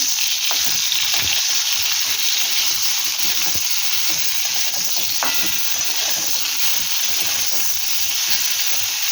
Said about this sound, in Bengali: ফুলকপিটা ভেজে নিচ্ছি ভালো করে